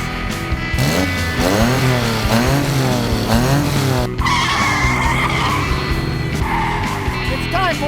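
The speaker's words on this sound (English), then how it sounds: "Rev up your engines!" Intro effect of car engines revving hard as tires skid and squeal, with rising and falling engine whines and a sustained loud screech, close and layered, with a voice underneath.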